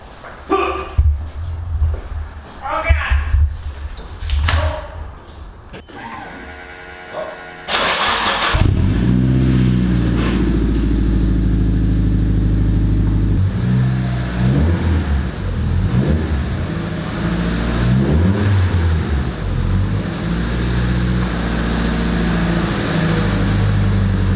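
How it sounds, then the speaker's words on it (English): A racecar engine cranks and fires after several starter bursts, then settles into a loud, steady roar with repeated revs rising and falling over a rumbling idle. "he wanted to hear what this car sounds like, so turn it on"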